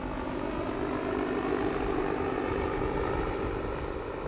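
Propeller aeroplanes flying over a wartime concrete airfield, a steady droning engine hum that stays constant and fairly loud throughout, with no voices.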